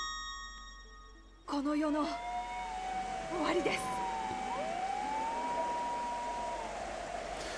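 Fire truck and police car sirens in the horror game Corpse Party wail and rise over a muffled street backdrop, overlapping with wavering tones, moderately loud after a sudden start, with a voice faintly present.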